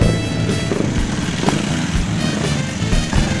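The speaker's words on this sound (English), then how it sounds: "Eventually, every bike would pass through here." Racing motorcycles at an AHRMA vintage race meeting at Daytona, 2008, heard passing a track intersection where every bike rolls through; a steady, continuous engine drone with no talk.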